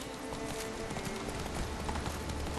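Horse hooves clip-clop steadily in The Witcher 3, a continuous rhythmic trot close by under game ambience.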